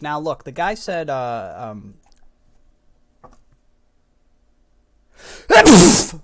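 A single loud, close sneeze bursts out near the end, following a man's speech and a stretch of near silence.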